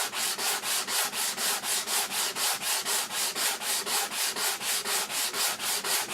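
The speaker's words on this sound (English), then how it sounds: "This end grain doesn't really sand that well." Hand sanding across the end grain of a wooden bathroom shelf, a steady run of rhythmic back-and-forth rasping strokes, close and fairly loud with no talk.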